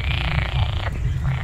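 Frogs croaking at a pond at a bamboo-built eco resort, a steady dense chorus of low pulsing calls running throughout at moderate loudness.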